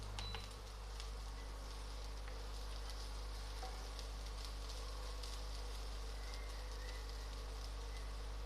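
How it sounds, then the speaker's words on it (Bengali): Ingredients frying lightly in a pan for chicken soup give off a soft, steady sizzling hiss that holds evenly throughout, with no voices. "হালকা করে একটু ফ্রাই করে নেব।"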